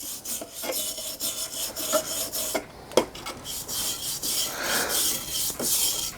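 A brass wire brush scrubs a rusty part from a Swan M1 model steam engine, close irregular rasping strokes with a few sharper scrapes.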